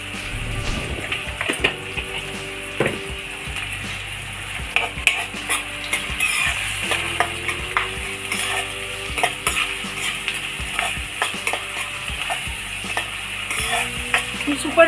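Onions frying in a pan with a little salt sizzle steadily, with repeated scraping and stirring clatter throughout and no talk.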